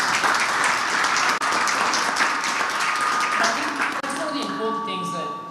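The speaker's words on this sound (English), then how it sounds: "give a round of applause to the people sitting on the panel today" A small business festival panel audience applauds steadily, dense clapping filling the whole stretch before it begins to thin out near the end.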